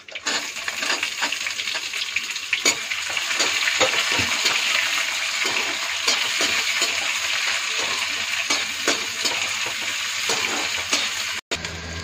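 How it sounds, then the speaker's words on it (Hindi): Onions dropped into hot oil with curry leaves for sambar sizzle and fry loudly and steadily, a continuous dense crackle with occasional stirring scrapes throughout. "अब इसमें डालेंगे प्याज"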